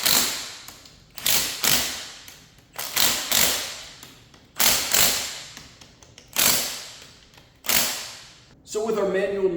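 Ratcheting or impact tool bolting a sway bar disconnect into place on a Jeep Wrangler, with about eight sharp repeated bursts of roughly equal length separated by short pauses, ending in a brief stretch of clattering.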